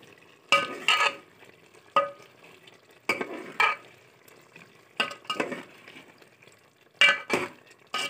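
Pea and potato curry frying in gravy in a pot, stirred with a spoon that scrapes and clinks in irregular bursts against the pot, close and clear with quiet gaps between.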